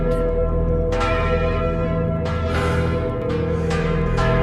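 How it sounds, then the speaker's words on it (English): A church bell tolls with deep, sustained ringing, each fresh strike swelling over the lingering hum of the last in a slow, loud, resonant sequence. "The second when the church bell's song has ended."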